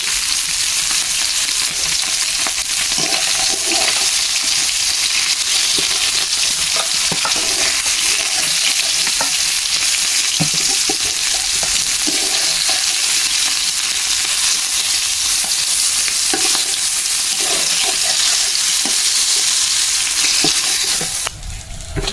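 Pieces for a taro and fish curry fry noisily in hot oil, a loud continuous sizzle broken by repeated scraping and clinking of a spatula as they are stirred, ending abruptly.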